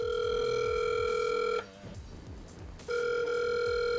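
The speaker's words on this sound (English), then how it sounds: "I'm gonna place a call from Peony's phone, and it should light up in blue down here" A Samsung Galaxy S6 Edge gives steady electronic ringing tones for an incoming call, a long tone broken by a short gap before it starts again, alone and fairly loud.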